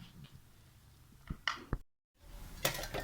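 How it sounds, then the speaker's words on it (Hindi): Breakfast dishes being washed at home: a few scattered clinks and knocks of pots and utensils over quiet background, with a brief silent gap. "नाश्ते के बर्तन साफ हो रहे हैं"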